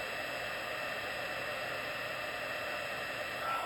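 A heat gun blows steadily close by while melting embossing powder, a constant airy hiss with a fixed electric whine throughout.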